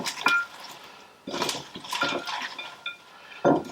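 Cutlery scrapes and clinks against a plate as food is mixed up, with a few separate bursts of clattering and a sharper knock at the end, close and fairly clear with no talking.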